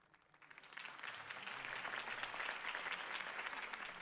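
Crowd applause swells after a political campaign speech for Harvey Dent, rising within the first half second into steady, dense clapping that holds loud to the end, with no talking over it.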